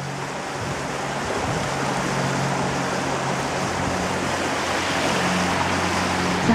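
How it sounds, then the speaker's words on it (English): Steady rushing water outdoors in a wooded area with branches, a continuous broadband wash like flowing water or surf, fairly loud and unbroken with no voices. "Does that water sound wonderful?"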